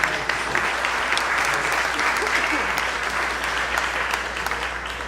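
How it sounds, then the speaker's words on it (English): A room full of people applauding steadily, a dense even roar of clapping that holds at a constant level from start to finish with no talk over it. "Let's give him a round of applause."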